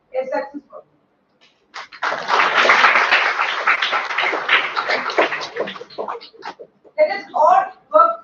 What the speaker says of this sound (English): a huge round of applause goes to the participants